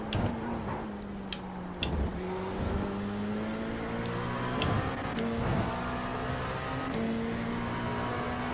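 An LMP2 prototype race car in the iRacing sim holds a steady engine drone, with pitch rising and dropping through gear changes and a few sharp clicks, running on its own without talk.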